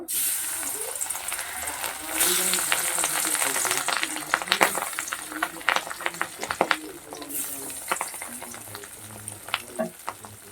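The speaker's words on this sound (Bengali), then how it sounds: "কড়াই তেল দিয়ে দিয়েছি এবার মাছগুলোকে ভেজে নেব" Oil sizzling and crackling steadily as pieces of a large katla fish fry in a wok, with sharp pops and spatters throughout and faint background voices.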